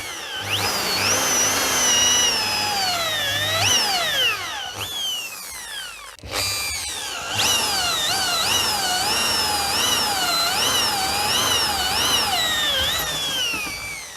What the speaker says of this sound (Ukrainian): І у той самий момент беру четверте те саме сверло і пробую арматуру.